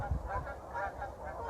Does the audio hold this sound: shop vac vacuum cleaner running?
no